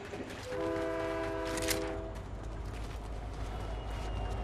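Train in Fortnite with a horn blast of stacked steady tones near the start, then a continuous rumbling rail noise carrying on to the end, loud and close.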